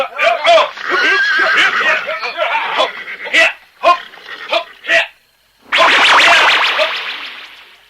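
Horses whinny and neigh in long, high, wavering calls with short gaps between them, loud and close, in a scene of soldiers mounting up in a period drama.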